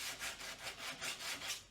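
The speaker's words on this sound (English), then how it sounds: "Go sand it back." Sanding a painted wood porch sign back to bare grain, a steady rhythmic back-and-forth rasping with about nine even strokes, close and alone.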